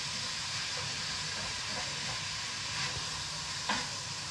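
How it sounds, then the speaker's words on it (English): Ground meat browns in a pan for sloppy joes, giving a steady, soft sizzling hiss that runs without a break, with a couple of faint clicks and no talking. "Sometimes browning meat is like watching paint dry."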